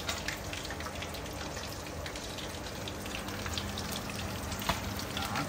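Fish frying in a pan, giving an even, dense sizzle and crackle that holds steady throughout, close up with no voices.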